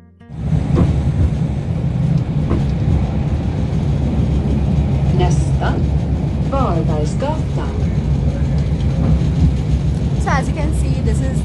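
A tram rides through a Swedish city with a steady, loud low rumble of wheels and motor. Squeals and clanks are heard along the rails, and voices talk faintly inside the carriage.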